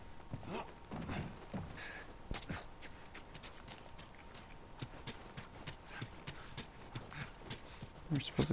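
Horse hooves clip-clop in the video game The Last of Us Remastered, a brisk irregular rhythm at moderate distance, quiet and sharp, with a faint steady hum underneath and occasional shuffling.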